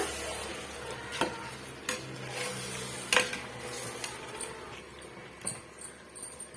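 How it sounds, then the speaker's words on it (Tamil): Chicken being sautéed and stirred in masala for Chettinad chicken biryani, a soft steady sizzle with intermittent scraping and clinking stirring strokes close by, no talking. "இந்த மசாலாவோட நல்லா வந்து வதக்கி விட்டுடலாங்க இடையிடையே இது போல கிளறி கொடுத்துக்கோங்க"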